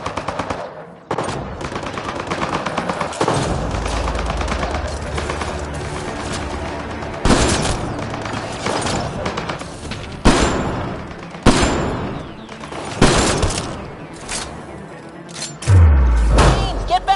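Mounted turrets in Mass Effect: Andromeda fire rapid automatic bursts, loud and close, with heavy thumps and sharp impacts breaking through sustained rattling gunfire.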